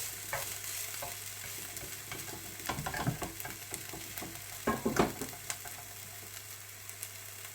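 Caribbean-style meatballs frying in a pan with garlic, a soft steady sizzle under scattered stirring knocks and scrapes, with a few louder clusters of spoon contact.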